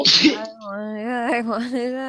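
A sharp sneeze bursts out at the start, immediately followed by a person speaking in a strained, drawn-out voice.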